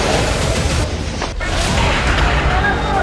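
Gunfire and shelling in a conflict-zone news report: dense, loud rumbling bursts and booms with a sharp crack near the middle, continuous and close throughout.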